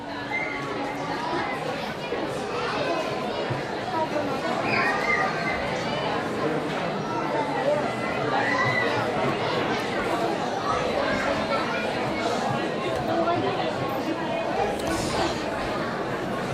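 Steady crowd chatter fills the stands at a Cavan County junior camogie championship final doubleheader at Kingspan Breffni, a dense, continuous murmur of many voices with no single speaker standing out.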